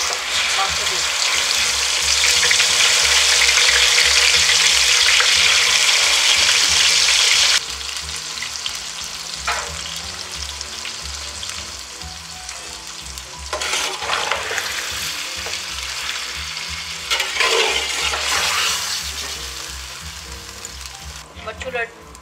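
Goat meat with whole spices sizzles loudly in a hot pan. The fierce frying hiss is strongest at first and then settles, broken by bursts of stirring and scraping.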